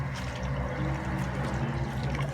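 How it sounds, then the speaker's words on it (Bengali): Water poured into rice puree, a steady close liquid pour and gurgle lasting about two seconds with no talk. "চালের পিউরির মধ্যে কিছুটা জল দিয়ে দেব"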